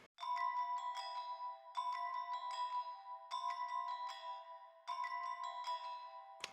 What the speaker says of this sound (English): So this is what the Gamelan sounds like.